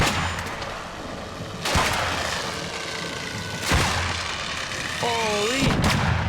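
Two sharp, loud impact grenade explosions go off in a video game, spaced about two seconds apart, each a sudden close boom over continuous gunfire and game ambience.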